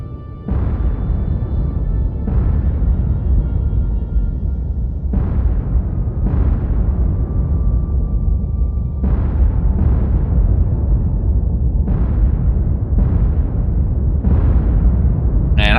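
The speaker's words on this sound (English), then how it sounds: "that was some pretty good hits on that submarine with those depth charges" Depth charges detonate against a submarine in the naval game War on the Sea, with heavy booming blasts, about nine of them, arriving in clusters over a sustained low rumble, loud and close.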